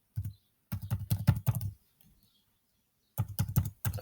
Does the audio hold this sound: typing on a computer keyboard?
yes